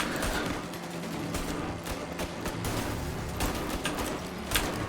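Rapid video game gunfire with an unlimited-ammo pistol, a dense run of sharp repeated shots that fills the whole stretch, loud and close.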